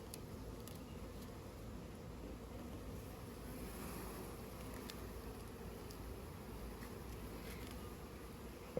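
Calm honeybees droning steadily around an open beehive frame, a constant near buzz with a few faint clicks and no voices.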